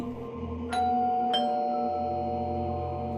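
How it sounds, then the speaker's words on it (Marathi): Two bright chimes of a doorbell ring out in quick succession, their tones lingering and fading over a quiet background hum. "तेव्हाच दाराची घंटा वाजली"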